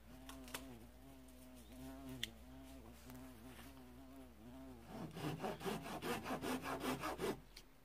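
Fast strokes of a folding pull saw rasp through dry chestnut wood, starting with a steady buzzing drone and building into loud, rhythmic back-and-forth cutting near the end.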